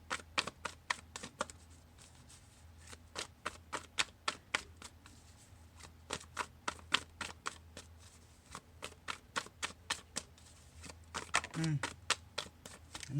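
Tarot cards being shuffled by hand, a long series of quick, crisp riffling snaps repeating in steady bursts close to the listener, with a low background hum and a brief voice near the end.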